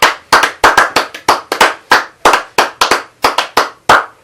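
A church congregation claps loudly in acclaim, sharp individual hand claps landing close and distinct in a loose, slightly irregular rhythm, about a dozen or more strikes with brief ringing decays between them.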